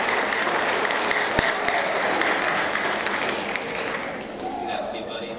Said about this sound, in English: Round of applause for Mason.